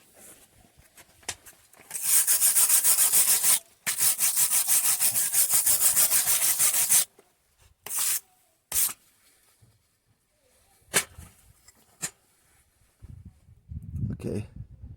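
A flux core MIG weld being cleaned up with an abrasive tool: two long loud grinding or brushing runs, then several short bursts, with quiet gaps and a low voice near the end.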